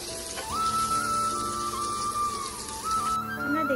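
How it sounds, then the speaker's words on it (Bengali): Paneer pieces fry in a pan until lightly browned, giving off a steady, close crackling sizzle. A high, thin whistling tone runs over it for most of the time, and no one speaks. "হালকা লাল হওয়া পর্যন্ত আমরা ভাজবো।"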